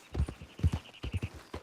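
A horse in a Western open-world video game walks along, its hooves clip-clopping in an uneven, steady rhythm of close, distinct thuds with no talk over them.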